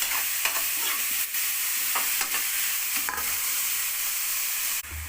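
Onion and tomato sauté in a pan for a sugar pumpkin stir-fry. They make a steady close sizzle, broken by several soft scraping stirs, with no talking.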